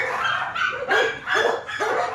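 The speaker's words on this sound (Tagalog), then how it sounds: "Ang daming aso. Nagkagulo." Several dogs bark in quick bursts, three or four loud yaps close by with short pauses between them.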